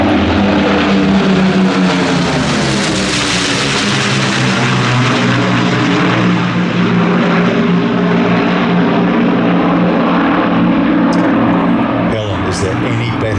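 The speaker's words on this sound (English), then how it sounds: "Is there any better sound than a Lancaster?" An Avro Lancaster from the Battle of Britain Memorial Flight roars past at an air festival, its piston-engine propeller drone loud and close and sweeping in pitch as it passes, with crowd and commentary sounds underneath.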